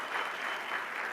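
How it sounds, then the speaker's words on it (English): A crowd applauds steadily, a dense wash of clapping from many hands filling the whole moment. "Could I get a round of applause for that?"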